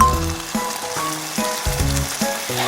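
Seasoning sauce poured into a sizzling fish cake and onion stir-fry, a loud close hiss of frying with bursts of crackle.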